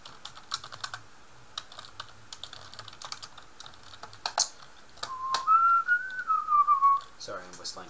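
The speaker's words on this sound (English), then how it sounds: "Sorry, I'm whistling." A person whistles a short, wavering melodic phrase up close in a game storage room, with keyboard typing clicking steadily before and under it.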